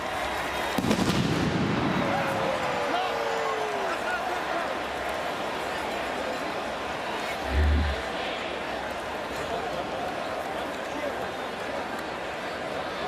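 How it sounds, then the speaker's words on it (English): Cannon fired at BMO Field during a 2023 CFL game between the Toronto Argonauts and Ottawa Redblacks: a sharp blast early on and a deep boom later, both under constant stadium crowd noise and a commentator talking. "Premature cannon fire here at BMO Field."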